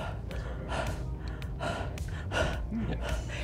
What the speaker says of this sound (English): And if I breathe on the sensor,